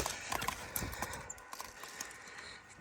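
Horses moving about outdoors, with faint, irregular hoof clops and some rustling against a steady background hiss, fairly distant and quiet, with no voices.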